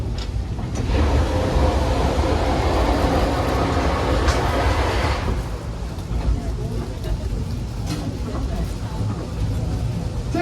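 A continuous rumble and clatter of a steam train rolling on rails through coastal redwood forest at Roaring Camp in Felton, California, with a voice talking over the noise.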